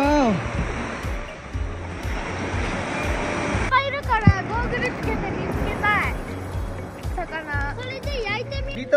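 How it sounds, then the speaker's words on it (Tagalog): Surf rolls in at Sotoura Beach in Shizuoka, a steady wash of moderate waves on smooth sand. Voices chatter and call out over it for most of the stretch, with a short quieter break near the middle. "Tapos yung alon niya, hindi rin naman kasi lakas nung sa Ohama Beach na sobrang taas."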